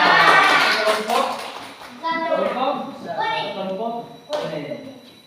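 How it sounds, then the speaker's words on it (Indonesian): A classroom of children claps in a rhythmic patterned cheer for a group, the sharp claps bursting in short bouts between chanted syllables, close and lively with young voices joining in. "kita beri tepuk"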